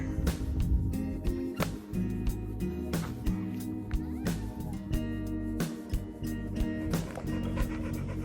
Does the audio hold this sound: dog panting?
yes